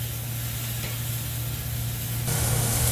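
Carne asada meat sizzling over a charcoal grill, a steady close crackling hiss that holds level throughout and swells a little louder near the end, with no talking.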